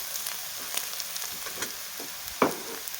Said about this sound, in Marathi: आता कांदा छान परतला आहे